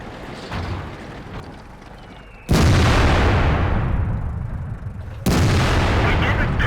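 Heavy tank guns firing in the World of Tanks video game, two loud booming blasts a few seconds apart, each with a long rumbling decay, after quieter game ambience.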